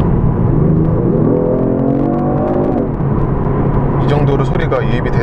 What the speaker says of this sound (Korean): 액티브 사운드 제너레이터를 키니까 청각적인 정보만큼은 스포츠카예요